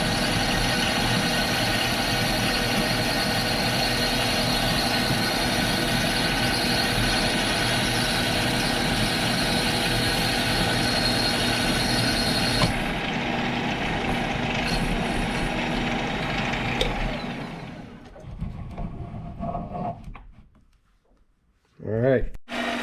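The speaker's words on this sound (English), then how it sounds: "I'm going to keep it at about that speed." A restored 2 HP Sattley hit and miss engine running at a steady speed, a loud continuous chugging drone that cuts off near the end, leaving quieter handling noises and someone speaking.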